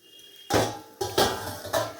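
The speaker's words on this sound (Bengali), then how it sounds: "দেখো আমি এবার ঢাকাটা খুলছি" A metal lid is lifted off a cooking pot of coconut and banana flower pathuri: a sharp clatter of metal on metal, then a couple more close clinks and scrapes.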